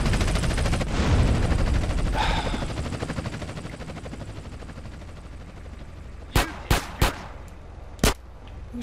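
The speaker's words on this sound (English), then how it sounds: "Who's shooting at me?" Gunfire in Grand Theft Auto: San Andreas: a dense rattle of automatic shots and helicopter-like drone fills the first seconds, fading to a steady hum, then four sharp, loud single shots ring out near the end.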